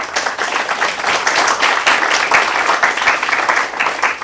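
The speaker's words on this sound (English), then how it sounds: "Your applause." An audience at a law and society forum applauding to welcome a speaker, a loud, close burst of many hands clapping with uneven rhythm that holds steady for a few seconds, no speech over it.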